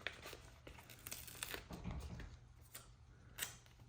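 Pet stickers being peeled and handled while decorating a travelers notebook cover: quiet close crinkling and a few short tearing rustles of backing paper, alone without speech.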